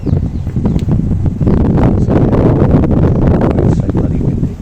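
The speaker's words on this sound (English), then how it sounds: "So bloody windy." Strong outdoor wind buffets the microphone, a loud continuous low rumble with gusty surges throughout.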